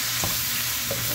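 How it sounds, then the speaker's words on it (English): Mushrooms and vegetables stirred in a frying pan: a steady sizzle under two quick scraping strokes of the utensil. "I didn't chop my mushrooms up because, of course, when I stir it, it'll break them up and everything."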